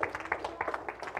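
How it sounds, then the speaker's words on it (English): A church congregation claps for the Lord, a short burst of rhythmic hand claps from several people, moderately distant and fairly soft. "Give the Lord a hand clap if you believe that"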